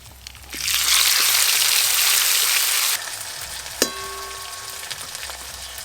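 Dried red chilli paste hits hot mustard oil with a sudden loud hiss that holds for about two seconds, then settles into a softer sizzle with one sharp clink.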